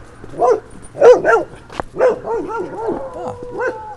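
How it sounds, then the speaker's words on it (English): A black dog on a housing estate barks close by in a few sharp bursts, then trails into whimpering, yelping whines. "That's a new dog, are you?"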